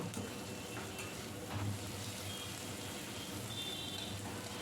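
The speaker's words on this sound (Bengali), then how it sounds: "পেঁয়াজগুলো একটু নেড়ে চেড়ে আমি ভেজে নেব" Onions fry in hot oil while being stirred, making a continuous soft sizzle with occasional scraping stirs, fairly quiet and steady throughout.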